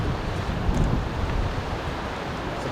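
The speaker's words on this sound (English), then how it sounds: "It's a big amount of water that's coming through now." River swollen after a storm rushes past as a steady, loud broadband roar of flowing water, continuous throughout with no voices.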